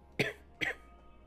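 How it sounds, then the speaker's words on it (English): Two short, sharp coughs about half a second apart, close and clear, with nothing else around them. "I have a little bit of a cough, cold coming down, probably"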